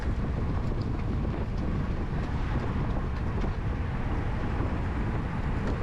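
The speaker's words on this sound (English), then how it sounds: "So much headwind." Strong headwind roaring steadily over the microphone during a Cat 4/5 criterium bicycle race, a dense, unbroken buffeting rush with no pauses.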